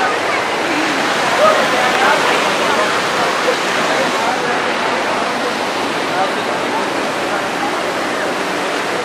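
Bhatta Falls near Mussoorie pours in a constant, loud rush of falling water, with small cascades where people bathe, a steady close roar with no break throughout.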